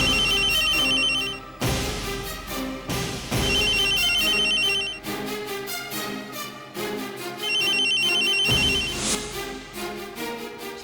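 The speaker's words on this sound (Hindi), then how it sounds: "शेखर, फोन बज रहा है तुम्हारा।" A mobile phone ringtone plays in repeating bursts of ringing with short gaps between them, fairly loud and close, in an indoor domestic scene with no talk over it.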